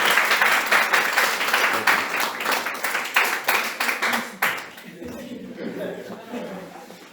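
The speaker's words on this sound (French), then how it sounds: "On peut applaudir quand même." Applause from a church congregation at an Easter Sunday service in Lille: dense, steady clapping for about four seconds, fading into a voice speaking over the hall.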